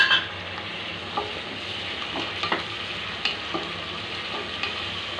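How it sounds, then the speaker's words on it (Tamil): Tomatoes sautéing in a pan for egg biryani, a soft continuous sizzle with occasional stirring clinks and scrapes, moderately quiet and without speech. "வதங்குற அளவுக்கு நல்லா வதக்கிக்கிட்டே போட்டோம்னா கொஞ்சம் கலர் கிடைக்கும்"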